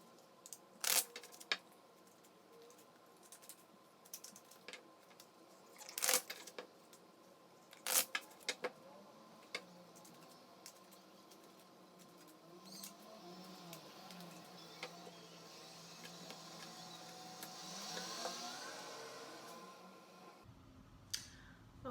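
Tarot cards being shuffled, soft papery riffles and sharp snapping bursts recurring at irregular intervals, close and fairly quiet, with a faint hiss underneath and a gentler rustle toward the end.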